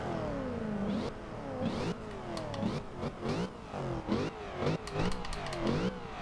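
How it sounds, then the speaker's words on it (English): Supercharged 2014 Chevrolet SS in Forza Horizon 2, with the engine revving up repeatedly through the gears, rising pitch sweeps and supercharger whine, loud and close with shifts every second or so. "now we're hitting higher RPMs, plus getting a little note of that supercharger"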